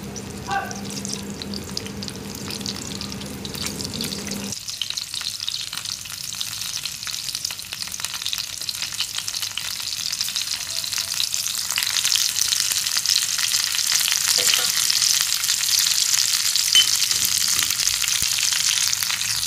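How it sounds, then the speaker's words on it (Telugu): Chopped onions and green chillies fry in a hot pan, giving a continuous loud hiss and crackle that grows denser and louder over the clip, with no one speaking. "కొంచెం వేగిన తర్వాత మనం కట్ చేసుకున్న ఉల్లిపాయలు, పచ్చిమిర్చి వేసి కొంచెం వేగనివ్వాలి."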